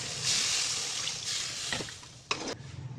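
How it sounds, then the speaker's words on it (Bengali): Water is poured into a hot pan of spiced potatoes and flat beans, giving a broad hissing rush that gradually fades, followed by a couple of short clinks and soft bubbling. "এবার দিয়ে দিলাম পানি,"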